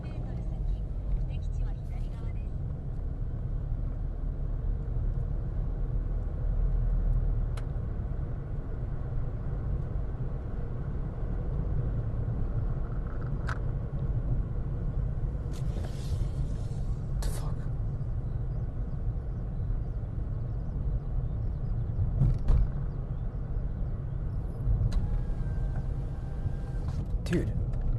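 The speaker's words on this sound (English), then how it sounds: "So, you know I'm driving here, right?" A car cruises along a road in Japan with a low, steady engine and tyre rumble inside the cabin, heard throughout under ongoing conversation, with a few brief clicks and knocks.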